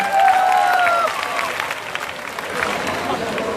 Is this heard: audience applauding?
yes